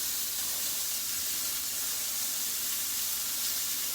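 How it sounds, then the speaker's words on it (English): Dinner cooking in a pan at home, a steady, bright sizzling hiss that holds evenly at moderate loudness, close and uninterrupted, with no talk. "all you can hear is sizzle."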